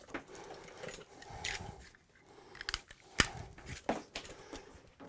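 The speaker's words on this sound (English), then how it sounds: "cut my sheathing" Close snipping and scraping as electrical cable sheathing is cut during bathroom wiring work, a few sharp cuts and rustling handling noises, with no talk.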